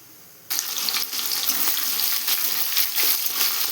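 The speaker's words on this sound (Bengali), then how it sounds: "পেঁয়াজটা দিয়ে দেব।" Sliced onions hit hot oil already frying cardamom, cloves and cinnamon, setting off a sudden loud sizzle after a moment of near-quiet, then crackling and hissing steadily close by.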